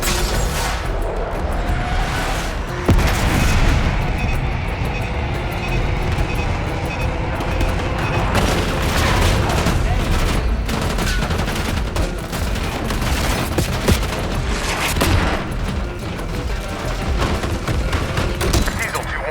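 Call of Duty Black Ops battle with continuous loud gunfire and heavy rolling airstrike explosions, a dense, relentless barrage with voices calling out over the combat.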